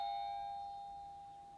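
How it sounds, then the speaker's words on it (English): A doorbell chimes once, a faint, clear tone that decays slowly in a quiet room with no one talking. "That's the doorbell."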